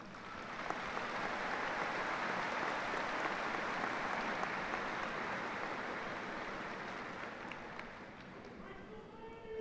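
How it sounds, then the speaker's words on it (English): Sustained applause from a large crowd at a college commencement, a dense wash of clapping that holds steady for several seconds and slowly eases off. "Please recognize them with a round of applause."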